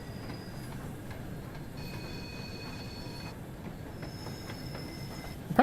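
A steam locomotive in Train Sim World 2 rolls slowly through a rail yard, its steady rumble carrying thin squeals of wheels on track and occasional clanks, with no talking.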